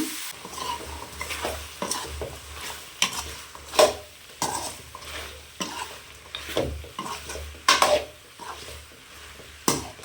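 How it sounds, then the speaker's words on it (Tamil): Mutton being stirred and fried dry in a pan for a varuval, with repeated scraping strokes of a spoon against the metal and a soft sizzle running underneath. "நல்லா தண்ணி சேர்க்காமல் அப்படியே பரட்டி விடுங்க"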